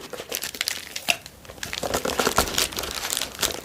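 Packaging crinkles and crackles continuously while items are being wrapped together, close and fairly loud, with irregular bursts of crumpling and tearing-like rustles and no speech over it.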